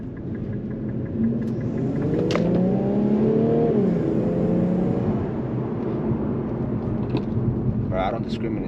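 Inside an Infiniti Q50 Red Sport 400, the twin-turbo V6 pulls under acceleration with a rising, then falling engine drone and a steady road rumble, while someone talks over the sound.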